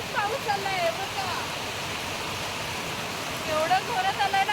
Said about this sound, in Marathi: जोरातच पाऊस आलाय बघा,